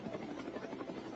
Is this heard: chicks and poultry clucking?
no